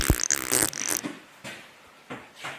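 A fart sound effect in a kitchen, loud and brief up front, followed by a few quieter trailing puffs spread across the rest of the moment.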